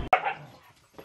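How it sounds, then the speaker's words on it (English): A single dog barks once, sharp and fairly close, followed by a faint whimper and a quieter trailing sound. "Stupid dog, stupid."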